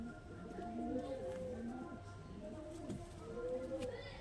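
Giribaz pigeons cooing softly in a loft, repeated low warbling coos overlapping from several birds over a steady background hum.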